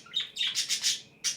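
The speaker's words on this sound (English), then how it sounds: "The birds are excited." Birds chirp in a bright, close flurry of several short, high tweets and squawks in quick succession, loud and clear with no voices over them.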